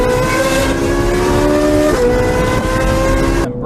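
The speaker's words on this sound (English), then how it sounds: "So I'm just gonna go ahead and assume that you guys like this kind of exhaust noise." A straight-piped Ferrari 458 exhaust roars loudly and close in a sustained high howl, dipping briefly before cutting off abruptly at the end.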